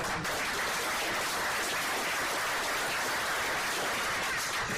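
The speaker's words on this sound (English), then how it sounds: "Round of applause" At a live addiction-recovery support group, the room breaks into steady, dense applause for the volunteer cooks who made the potatoes, a loud continuous patter of many hands sustained throughout.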